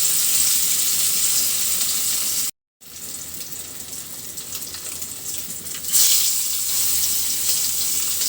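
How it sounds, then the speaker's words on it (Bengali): Pieces of fish frying in hot oil give a steady, loud, hissing sizzle close by that runs almost without a break and swells slightly toward the end. "তেলটা কিন্তু গরম হয়ে গেছে, তো দিয়ে দিচ্ছি এর ভিতরে মাছের পিসগুলো"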